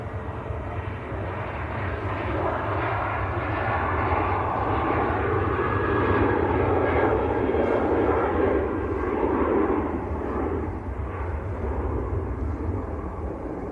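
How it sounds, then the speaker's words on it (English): A Japan Airlines Airbus A350 passes overhead near Manchester Airport, on its way down to Heathrow from Tokyo Haneda, its broad engine roar holding steady and loud for the whole stretch before easing slightly at the end. "that's the Japan Air A350 on its way down to Heathrow"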